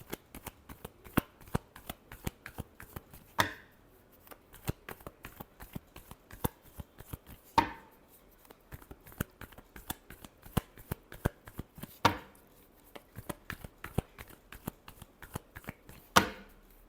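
Tarot cards being shuffled by hand, a dense run of quick papery riffles and taps with a few sharper bridging swooshes spaced a few seconds apart, close and fairly quiet with no talk.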